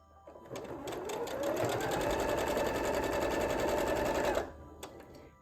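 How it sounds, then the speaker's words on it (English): A sewing machine stitching quilt fabric pieces together, a close, steady whirring hum that ramps up, runs continuously for about four seconds, then stops abruptly. "they'll be stitched here and here, and then I'll take that piece and stitch them together"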